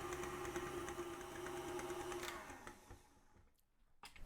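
Stand mixer beating chocolate cake batter, a steady dense whir that runs loud and even before winding down and stopping, leaving a few light clicks near the end.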